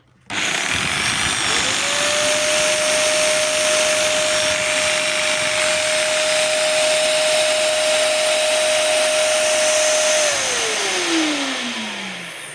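A Dnipro-M VCW-20SA construction vacuum cleaner starts up and runs steadily for about ten seconds with a loud, even motor whine, then winds down, alone without talk.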